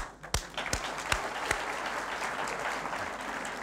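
Studio audience applause on a 1994 Turkish television talk show, a few distinct loud claps at the start swelling into a steady, dense wash of clapping from the crowd.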